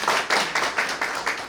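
An audience at a panel discussion on construction-site fire prevention claps in a brief, even burst of applause, rhythmic hand claps repeating at a steady pace, near and moderately loud.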